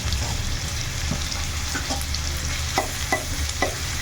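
Crushed garlic sizzles and fries in hot oil with potatoes in a pan, a steady frying hiss with a few scraping stirs near the end, close and fairly loud with no talking.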